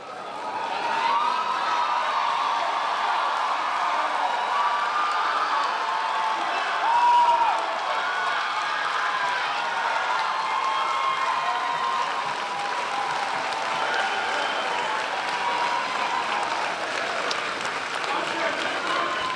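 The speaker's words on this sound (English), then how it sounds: "you have one more chance for applause" Sustained applause from a large audience at a high school graduation ceremony, a dense, even wash of clapping that holds steady for the full stretch, with faint cheering mixed in.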